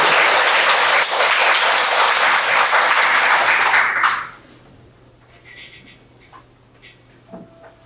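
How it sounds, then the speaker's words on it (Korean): A crowd at a book concert breaks into loud applause for about four seconds. Then the clapping stops suddenly, leaving a quiet room with a few faint shuffles. "선생님 목소리를 꼭 읽어달라고 큰 박수로 환영해 주시기 바랍니다"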